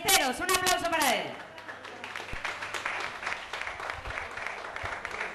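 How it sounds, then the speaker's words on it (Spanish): After a brief burst of singing at a karaoke night in Barbastro, audience applause for singer Luis Ballesteros takes over, a fairly soft, sustained patter of many hands. "Luis Ballesteros, un aplauso para él"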